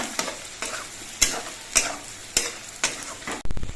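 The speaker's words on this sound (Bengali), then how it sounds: "এবার এর মধ্যে আমি হাফ চামচ হলুদের গুঁড়ো দিচ্ছি হলুদের গুঁড়ো দিয়ে নেড়ে চেড়ে মিশিয়ে নেব" Potatoes frying with ginger paste and a half spoon of turmeric powder sizzle steadily in the pan while a utensil scrapes and stirs in regular strokes, each stroke a sharp scrape, close and clear with no talking.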